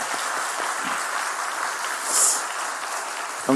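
Congregation in a Korean church applauds at an elder ordination thanksgiving service, a continuous, moderately distant patter of many hands clapping, with a brief voice starting right at the end.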